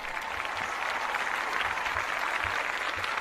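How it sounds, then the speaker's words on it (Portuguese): Short burst of applause in a studio during a Brazilian football post-match show, steady dense clapping for a few seconds with no talk over it. "Palmas pra ele."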